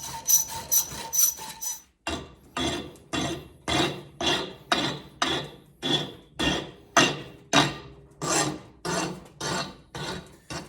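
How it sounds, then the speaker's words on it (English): A hacksaw cuts the end off a piece of metal clamped in a vise, with a few quick rasping strokes and then a steady, even rhythm of long back-and-forth strokes, close and clear with no talk. "I'll just put this in the vise and hacksaw the end off it"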